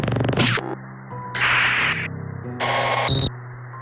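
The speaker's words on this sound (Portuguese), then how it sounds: "De repente a TV fez um barulho de estática muito alto." Loud bursts of television static hiss cutting in and out in three harsh blocks, alternating with a lower steady hum between them.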